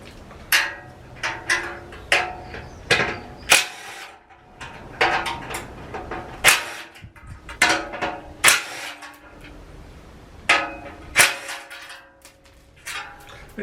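Elektra Beckum BAS 315 bandsaw base being unbolted in a workshop: a series of sharp close clanks and ratcheting clicks from wrench and bolts, irregularly spaced with short pauses between.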